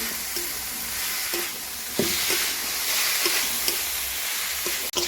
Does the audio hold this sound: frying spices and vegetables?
yes